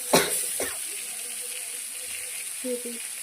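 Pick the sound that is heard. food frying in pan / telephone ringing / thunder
food frying in pan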